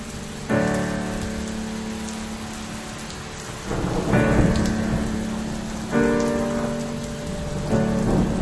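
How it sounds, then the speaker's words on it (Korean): Steady rain falls with repeated rolls of thunder at the opening of a song, the downpour continuous and the thunder swelling loudly three times over it. "빗소리가 함께 시작되는"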